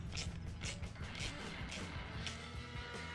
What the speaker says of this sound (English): Put a couple clamps on that. Make sure I get this thing tightened on here.